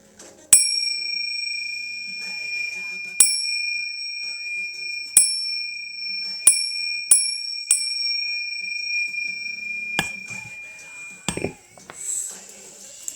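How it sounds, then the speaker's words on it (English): Small bells clink in a sparse, irregular series of about eight bright, ringing strikes, each decaying slowly in a quiet indoor room, followed by a few softer clattering knocks near the end. "We're going to clink some bells"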